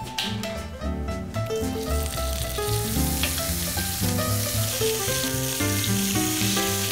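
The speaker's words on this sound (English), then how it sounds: "give your pork belly a quick pan sear" Pork belly sears in a hot pan with a loud, close, continuous sizzle and crackle, steady throughout with a faint background tune and no talking.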